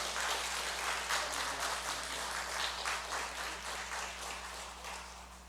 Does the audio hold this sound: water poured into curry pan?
no